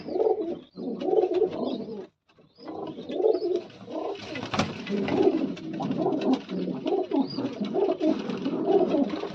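Pigeons in a loft coo continuously in soft, overlapping rolling calls, a close flock murmuring with a short pause early on and a brief sharp knock in the middle.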